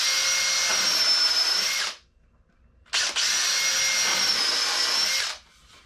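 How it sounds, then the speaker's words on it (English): Power drill boring pocket screw holes in wood with a countersink bit during a wooden boat restoration, two loud sustained whining bursts of about two seconds each, separated by a short pause, close and without talk. "homebrew, poor man's pocket screw, which is basically just taking a counter bit and instant pocket screw."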